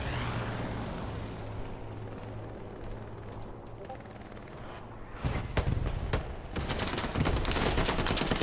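Machine gun fire in the video game Hell Let Loose, a rumbling distant battlefield bed that breaks into louder, rapid bursts of automatic fire toward the end, with no speech over it.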